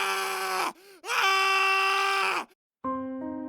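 A scream sound effect in a Korean audio drama of The Black Cat, a mystery thriller. A loud, tonal, anguished cry breaks off briefly, resumes strongly, then cuts out before a lower, sustained wail, with no speech over it.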